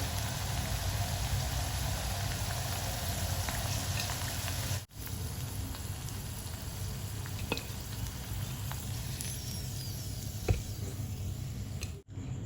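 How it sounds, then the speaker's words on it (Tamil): Food frying in hot oil for a quick Tamil side dish, a dense, steady sizzle and crackle that continues without a break, with a couple of brief dips and a few small pops. "இப்போ நம்ம பாக்கி எல்லாத்தையுமே அதே மாதிரி ஃப்ரை பண்ணி எடுத்துக்கலாங்க"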